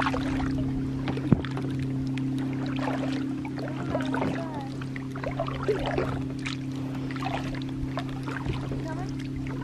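Gentle splashes and drips of kayak paddles working through water over a steady low motor-like hum, with light scattered sounds nearby.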